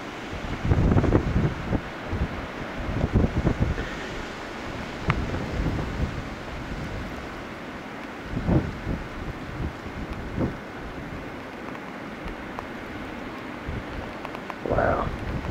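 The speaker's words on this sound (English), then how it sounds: "Winds are sustaining at 40, almost close to 50 mile an hour wind gusts." Blizzard winds during a 2013 snowstorm in Derry, New Hampshire, gusting near 50 mph, roar and buffet the microphone in a continuous loud rush with repeated heavier bursts throughout.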